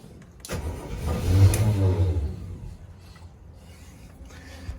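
The engine of a Bertram 28 boat with port-side engine trouble gets a short burst of throttle from idle, rising into a brief revving surge before settling back to a low, steady rumble.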